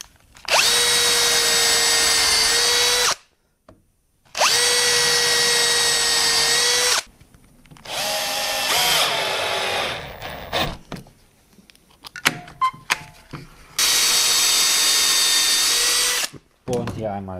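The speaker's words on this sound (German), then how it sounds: "Das können wir jetzt eigentlich so festschrauben." Power drill driving screws into wood while building a router lift table for a Bosch POF 1200 router, with three long loud whirring runs separated by pauses and a stretch of softer handling knocks and clatter.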